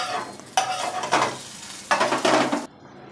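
Lentil fritters sizzling in a frying pan, with bursts of crackling frying as the fritters are stirred and lifted out, close and fairly loud, no talk.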